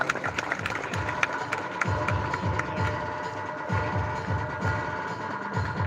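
An audience at an 81st birthday celebration claps to welcome a guest, a moderate, steady patter of hands with some crowd murmur.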